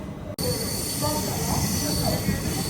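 The Tirupati–Puri Express pulls out of Nellore, a loud, steady roar of wheels on rail with a thin high squeal, heard up close from on board after an abrupt start.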